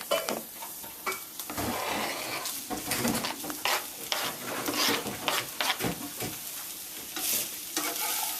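Browned meat mixed with olives and egg is stirred in a frying pan, giving a steady scraping and sizzling with irregular utensil strokes, close and fairly loud, with no voices.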